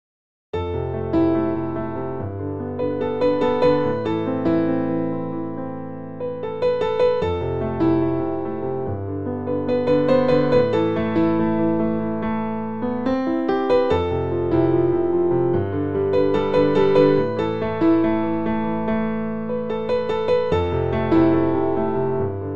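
Solo piano playing the second section of a piece in an advanced arrangement: gentle flowing melody over steady repeating low accompaniment, played alone at a moderate even level for over twenty seconds.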